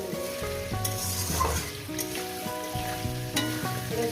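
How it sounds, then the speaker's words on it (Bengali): Potatoes fry in a pan with a continuous close, crackling sizzle. Occasional stirring scrapes and brief sharp clicks break it. No voices are present. "আলুগুলো দেখবেন আমি ভেজে নিয়েছি"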